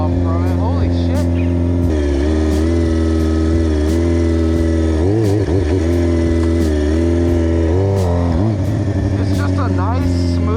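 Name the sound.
636 sport motorcycle engine during ride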